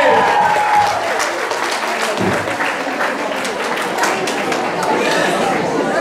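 Audience applause fills the room, a dense, steady wash of many hands clapping at close range, with scattered voices and chatter mixed in throughout.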